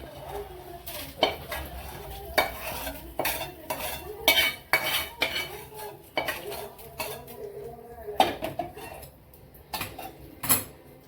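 A metal spatula repeatedly scrapes and clinks against a pan while bajra, chana dal and rice dry-roast until reddish, in steady irregular strokes with a faint crackle underneath and no voices.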